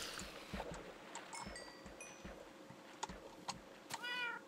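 An ocelot in the video game Minecraft meows in a short, clear call near the end, following a series of soft rhythmic thumps and several bright chime-like tones.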